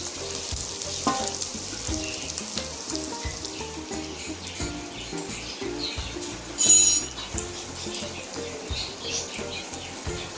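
Food deep frying on an induction stove in its deep-fry mode, a steady close sizzle with bubbling and occasional stirring, including a brief louder burst midway.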